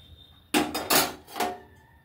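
A metal lid clatters onto a cooking pot of potato and vegetable-stalk curry in a home kitchen, a few sharp knocking clanks in quick succession, close and fairly loud.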